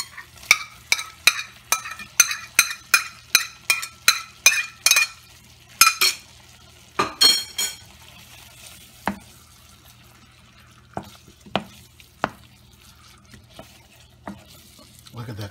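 Shrimp are stirred into a creamy lemon garlic scampi sauce in a pan, giving a quick run of sharp, close clinks and scrapes with a soft sizzle, then a few sparser strikes against the pan.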